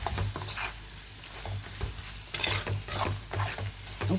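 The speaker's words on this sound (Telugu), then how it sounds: "ఉప్పు వేసిన తర్వాత 2 మినిట్స్ ఇలా కలుపుకోవాలండి." A salted mango rice mixture is stirred in a pan for mango pulihora, giving irregular scraping and scooping strokes with a faint sizzle underneath, close up and with no voices.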